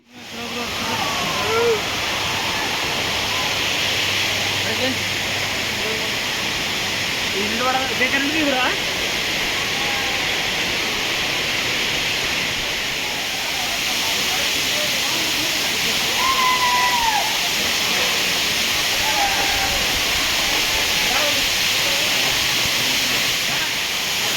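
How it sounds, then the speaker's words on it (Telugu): Steady broadband roar of a waterfall fills the whole clip, constant and loud, with faint voices and occasional bird-like calls mixed in. "వాటర్ ఫాల్స్ సౌండ్ అయితే చాలా ఎక్కువగా వినిపిస్తుంది"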